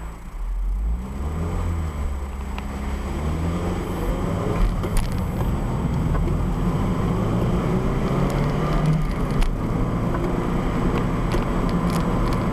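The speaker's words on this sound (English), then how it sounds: "So engine noise is moderate." A 2001 Toyota MR2 Spyder's mid-mounted engine, right behind the seats, drones steadily from inside the cabin, its moderate hum climbing in pitch as the car accelerates, with constant road rumble.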